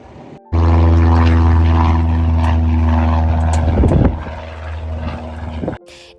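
A small private propeller plane at a San Juan Islands airport in the US runs up its engine nearby, a loud, steady droning buzz with a strong low hum that swells, then eases and cuts off.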